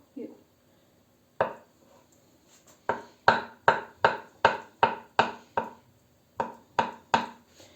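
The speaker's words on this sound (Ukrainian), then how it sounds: "яйце так само нарізаємо дрібно" A knife on a board finely chops boiled egg in a kitchen, a series of crisp rhythmic taps in quick clusters with brief pauses between them, close and clear.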